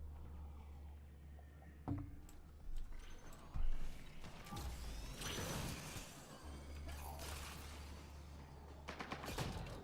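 Shotgun-type weapon firing during Mass Effect: Andromeda multiplayer combat, a few sharp blasts spaced irregularly over a steady low engine-like hum, with scattered impact and mechanical noises in between.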